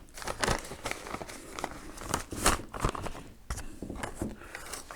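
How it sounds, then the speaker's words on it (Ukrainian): Soft, close crinkling of a plastic bag with scattered rustles and crunches as soil mix is scooped in, fairly quiet throughout. "Набираємо нашої суміші половинку, пів пакетика."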